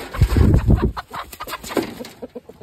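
Chickens cluck and squawk close by in a burst of agitated calls, with scattered flapping and shuffling as the birds move about.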